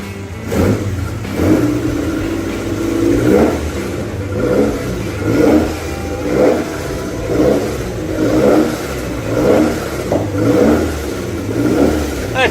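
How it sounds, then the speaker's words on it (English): A car engine revs repeatedly through a loud exhaust system, about nine throaty surges rising and falling in a steady rhythm, close and prominent with no talking. "That's a nice exhaust system, Jim."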